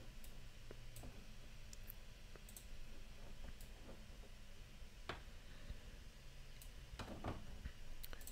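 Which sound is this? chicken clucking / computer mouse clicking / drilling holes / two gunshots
computer mouse clicking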